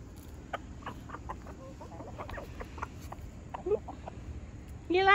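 Chickens cluck softly and repeatedly nearby, a scattered series of short calls over a low background hum, ending with a louder squawk.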